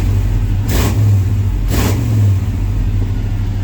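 A 1990 Chevy K1500 pickup engine runs at a loud, steady idle close by, rising in two short revs before settling back to idle, with no one speaking.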